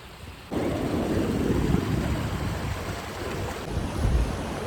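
Glacier meltwater rushes over rocks in a mountain stream at Sonmarg, a loud, close, continuous roar of turbulent water with gusts of wind buffeting the microphone.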